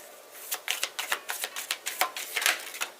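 Rapid crisp riffling and slapping of tarot cards being shuffled, a series of quick papery bursts in close succession, heard up close with no talking.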